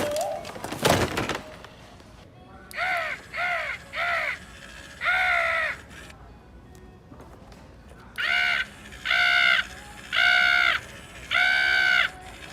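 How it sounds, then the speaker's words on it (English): Animatronic Halloween crow perched in a bird cage gives a series of loud, harsh electronic caws in two bursts of short repeated calls, following a sharp clatter at the start, with no talking. "So here's this bird cage crow"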